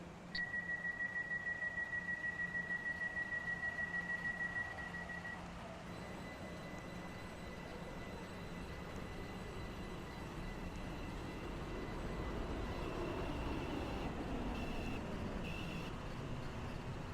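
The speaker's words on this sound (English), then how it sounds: "The train now approaching Platform 8 terminates here." A train pulls into a station platform in the Roblox game Stepford County Railway, starting with a steady, rapidly repeating beeping tone that stops, then a low rumbling motor hum that swells as the train draws near, with faint higher whines above.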